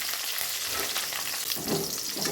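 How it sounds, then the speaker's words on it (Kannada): Boondi frying in hot oil gives a steady close sizzle and bubbling with occasional stirring, with no talk over it. "ಅದು ಸ್ವಲ್ಪ ಗೋಲ್ಡನ್ ಬ್ರೌನಿಷ್ ಕಲರ್ ಬರೋವರೆಗೂ ಫ್ರೈ ಮಾಡಬೇಕು"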